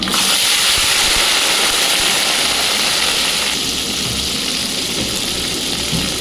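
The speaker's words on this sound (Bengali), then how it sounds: "এবার কড়াইশুটিগুলো একটু হালকা ভেজে নেব" Loud, steady hiss of green peas frying lightly in hot oil in a wok, continuous throughout with no talking.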